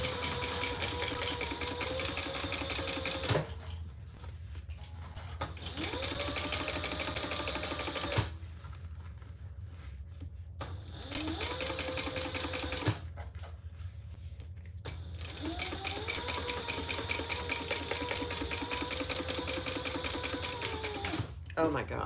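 A sewing machine stitches fabric in steady rapid runs of several seconds, stopping and starting repeatedly at moderate volume.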